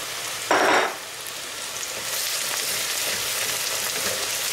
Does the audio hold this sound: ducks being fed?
no